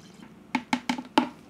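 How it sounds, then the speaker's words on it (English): Water poured into a one-gallon batch of lingonberry mead, heard as four short, close splashing glugs spaced evenly apart over a quiet room background. "I am going to pour in the rest of this water."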